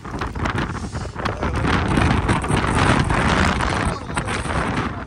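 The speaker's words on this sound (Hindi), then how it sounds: "सर्दी हो रही है, हवा चल रही है तेज" Strong, cold wind roars across an open outdoor autocross race site, loud gusty rushing that buffets the microphone throughout, with faint voices underneath.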